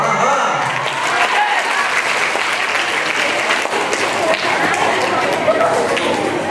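Steady applause from a crowd, continuous clapping throughout at an even level, with faint voices mixed in.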